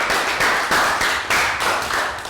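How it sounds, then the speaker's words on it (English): Schoolchildren in a Year 3 math class clap together in a short, uneven burst of hand claps with a few louder pulses, close and fairly loud, with no voices over it. "Round of applause, guys."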